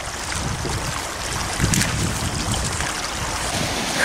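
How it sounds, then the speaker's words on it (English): Fast floodwater rushes through a rain-swollen creek where a beaver dam has washed away, a steady broadband roar with wind buffeting the microphone, loud and continuous throughout with no talking. "Oh, it's flowing fast."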